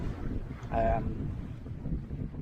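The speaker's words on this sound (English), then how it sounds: "It's a bit windy for the spinnaker as well" Wind buffets the microphone aboard a sailing yacht at sea off the Portuguese coast in winter, a continuous low rushing roar with a brief higher whistle-like tone early on, close and steady.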